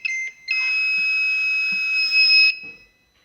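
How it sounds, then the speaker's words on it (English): A Mercedes-Benz SL55 AMG sounds a continuous electronic warning tone for about two seconds during a brake diagnostic with a brake-defective alert, preceded by a short beep and followed by quiet, loud and steady. "Making a lot of beeping noises."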